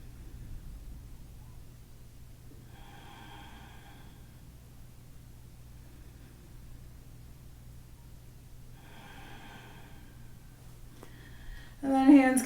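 Slow yogic pranayama breaths, two soft airy exhalations a few seconds apart over a low steady hum, with a brief louder rustle at the end.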